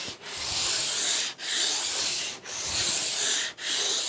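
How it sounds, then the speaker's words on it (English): Sandpaper wrapped on a block rubs along a cross-country ski base in four long, even strokes, each a steady close scraping hiss separated by brief pauses. "So let's go ahead and continue this sanding process."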